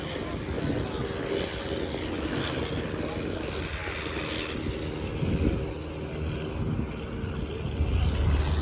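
A World War One era aircraft engine drones at a 2022 airshow, a steady propeller hum and rumble with some wind noise while someone talks over it.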